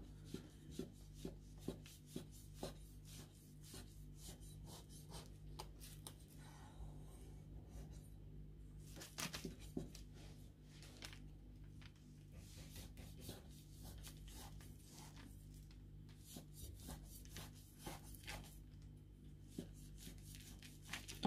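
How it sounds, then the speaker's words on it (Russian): A knife cuts a slice from a freshly baked, still-hot apple charlotte cake, giving soft, repeated rubbing and scraping strokes through the crumb at close range that carry on steadily with small clicks. "Итак, отрежу кусочек, попробуем, какая по вкусу получается шарлотка."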